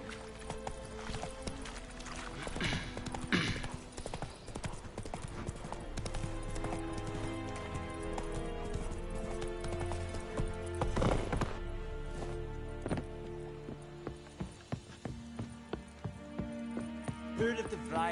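Galloping horse hooves from The Witcher 3 video game, a steady clip-clop rhythm running through the scene alongside game music and ambience, with a voice speaking partway through.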